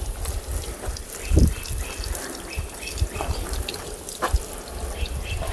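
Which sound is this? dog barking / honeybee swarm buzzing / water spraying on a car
water spraying on a car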